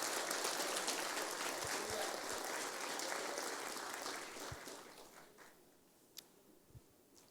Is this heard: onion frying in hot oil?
no